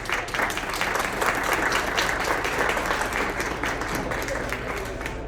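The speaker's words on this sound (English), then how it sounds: "Round of applause for Karma, please" An audience claps steadily for a workshop speaker at a business fair, dense sustained applause filling the room with no speech for about five seconds.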